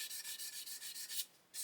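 Sandpaper rubs back and forth across a plastic Airfix 1/72 Lancaster B.III Dambuster model kit in quick, even strokes, close and steady, with a brief pause before one final stroke.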